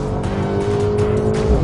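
A 2019 Mercedes-AMG GT 63 S four-door braking hard on track, its tires squealing over a steady engine drone, with a sustained screech close by that fades near the end.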